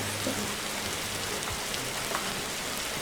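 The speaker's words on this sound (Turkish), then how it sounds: "Yağmur yağıyor." Steady, dense rain falls in the Roblox game 99 Nights in the Forest, a constant close hiss of drops on surfaces with no break and no voices.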